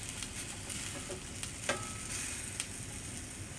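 Dirty rice ingredients frying and cooking down in a pan: a quiet, steady sizzle with a few soft clicks of stirring, close and continuous.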